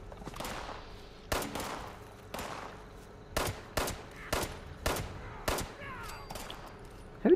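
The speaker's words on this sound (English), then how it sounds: "How dare you open fire now?" Sharp gunshots ring out in Fallout 76, about seven loud, separate cracks spaced roughly half a second to a second apart, each with a short echoing tail.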